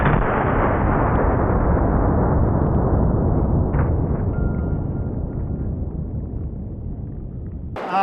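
A Winchester .270 150-grain AccuBond rifle round fired at body armor: one loud, sustained blast rumbles and decays across the whole stretch, with a sharp burst at the very end.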